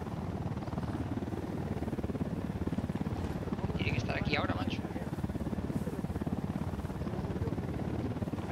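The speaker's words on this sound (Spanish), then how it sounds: "Aguantar que pase el helicóptero." A helicopter drones steadily in the Ghost Recon video game, a low rotor thrum that swells slightly as it passes overhead, under someone talking in Spanish.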